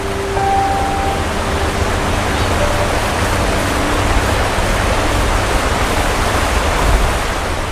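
Mountain streams rushing over granite rocks, a loud, broad, unbroken roar of flowing water that stays steady and close the whole time, with no voices.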